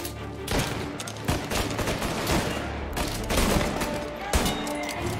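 Rapid bursts of video game gunfire from Mafia: Definitive Edition crackle on without pause, dense overlapping shots from automatic weapons filling the whole stretch at steady volume.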